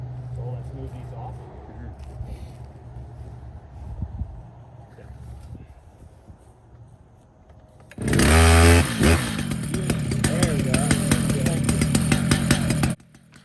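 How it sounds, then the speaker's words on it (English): Chainsaw mill on a Stihl 881 cutting big leaf maple, starting abruptly with a loud roar and running at a steady high whine, after a stretch of quiet background where people talk faintly. "we're doing some milling with the 881 here"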